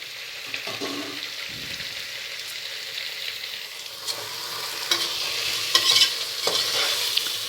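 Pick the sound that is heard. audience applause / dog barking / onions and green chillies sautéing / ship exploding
onions and green chillies sautéing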